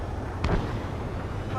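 A missile fires from a fighter jet in the combat flight game Ace Combat 7, giving a single sharp launch burst with a short whooshing tail under a steady engine roar.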